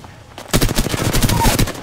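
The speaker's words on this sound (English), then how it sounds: "They're getting shot at by another team." Rapid automatic gunfire in a team-based online shooter erupts after a quiet half second, with dense bursts of loud shots continuing steadily to the end.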